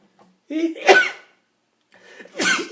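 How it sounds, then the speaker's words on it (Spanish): Two sharp sneezes in quick succession, each a loud, close burst with a short intake before it, separated by a brief silence. "perdonen, un ataque de estornudo"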